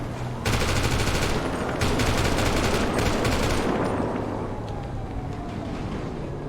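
Video game gunfire bursts out in loud, rapid automatic volleys, close and dense for several seconds, then fades into a rumbling tail.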